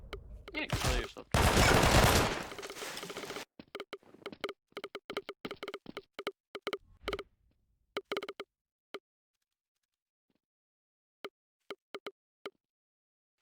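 Rapid gunfire from a weapon in a video game, fired during a rate-of-fire test: a dense burst of loud shots up front, then crisp single shots and short volleys spaced out, with gaps of silence and a few final isolated shots.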